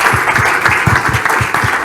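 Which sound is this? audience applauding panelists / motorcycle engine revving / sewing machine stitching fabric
audience applauding panelists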